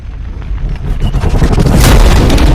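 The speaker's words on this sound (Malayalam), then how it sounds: "എന്തിനാ ആളുകൾ പടക്കം പൊട്ടിച്ചേ?" Firecrackers boom and crackle in a rolling, continuous burst, loud and close, building in intensity toward the end.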